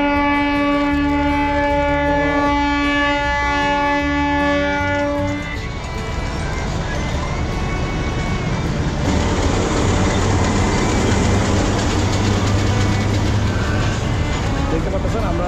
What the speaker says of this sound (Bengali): আমাদের ট্রেনটি রাজশাহী শিলাহাটি থেকে বরেন্দ্র এক্সপ্রেস চলে আসলো